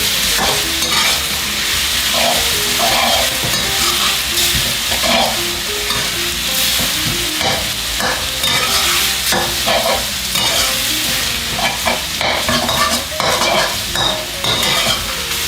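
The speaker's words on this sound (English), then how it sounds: "Then you stir it from the bottom and mix it. Stir and mix." Noodles and corn stirred in a hot pan in a Thai cooking class, a loud, steady sizzle with repeated scraping and clattering strokes of the utensil against the pan throughout.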